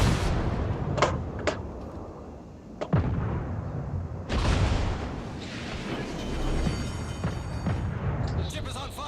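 Naval gunfire in the World of Warships video game, shells striking a ship and setting it ablaze: several heavy booms and blasts cut through a dense, rumbling battle din while someone talks over it throughout.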